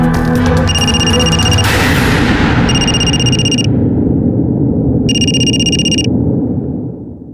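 A phone ringing over speakerphone after a number is dialed: repeated electronic ringtone bursts of about a second each, separated by pauses, over steady background noise.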